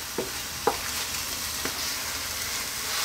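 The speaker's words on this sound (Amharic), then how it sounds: "ከዛ ነጭ ሽንኩርታችንና ሽንኩርታችን አብረን ከስጋው ጋር እንጠብሳለን።" Garlic, onion and meat fry in a pan for Ethiopian misir wat, a steady soft sizzle with a few quick scraping stirs, close and fairly quiet.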